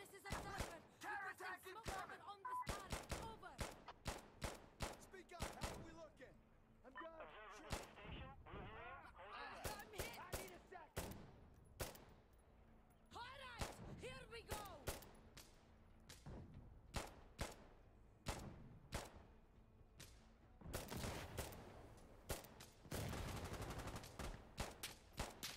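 Gunfire in Insurgency: scattered single shots, automatic bursts and heavier blasts, some near and sharp, others distant, with voices talking between and over the firing.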